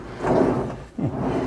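A drawer in a Chausson X650 camper van slides open with a rolling, woody rumble, then stops with a short dull knock, heard close up with no talking.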